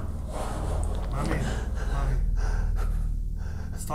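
Close, frightened heavy breathing with sharp gasps, continuous and fast-paced, in a scared moment among friends, with voices mixed in.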